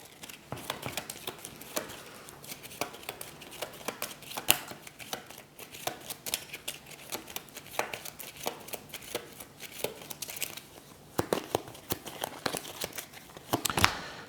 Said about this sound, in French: s'il n'y a plus de cartes du tour, on mélange.